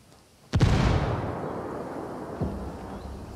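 A frag grenade detonates in a video game firefight with a sharp, loud blast followed by a long rumbling decay, and a smaller thud trails about two seconds later.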